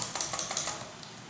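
Quick typing on a computer keyboard, about a dozen close crisp key clicks in a fast uneven run that trails off.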